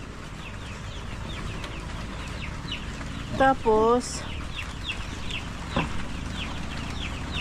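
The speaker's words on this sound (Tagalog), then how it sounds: "yung sa mga maliliit natin na manok" Small young chickens on a farm in the Philippine countryside cluck in a short burst, with a soft distant cluck later, under someone talking.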